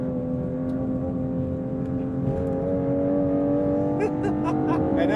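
A 2025 Aston Martin Vanquish's twin-turbo V12 drones steadily from inside the cabin, its tone climbing gradually as the car pulls, with faint ticks and clicks toward the end.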